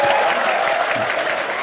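An audience at an Islamic religious talk claps together in a short, dense burst of applause, with crowd murmur blended underneath.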